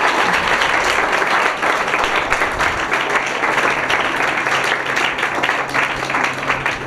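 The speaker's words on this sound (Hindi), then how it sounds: "तो फिर मारो ना तालियां।" A crowd at a school golden jubilee spot-prize quiz gives sustained, dense applause that carries on at an even level throughout, with faint voices underneath.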